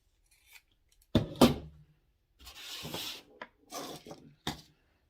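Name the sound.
cutting out a fabric circle with scissors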